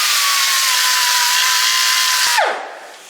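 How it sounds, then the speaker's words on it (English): A power grinder taking paint down to bare metal, a loud steady whining roar close by that winds down with a falling pitch at the end. "I'm going to get my grinder."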